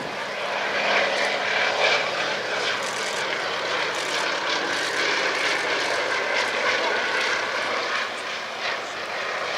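A Fairey Swordfish biplane flies past at an air festival, its propeller engine a steady, moderately distant drone with a broad hiss throughout, under faint crowd ambience.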